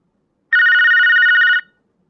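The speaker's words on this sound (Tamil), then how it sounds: "அவ ஃபோனே எடுக்கல" A single loud electronic ringing tone sounds for about a second on a phone call that goes unanswered, clean and alone against silence.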